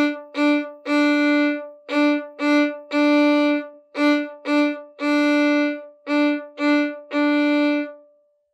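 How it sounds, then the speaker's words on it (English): A violin plays the bow pattern for the Suzuki Allegretto on a single repeated note: groups of short and long bow strokes in a steady rhythm, clear and close, with no talking. "Here's a demonstration of the bow pattern."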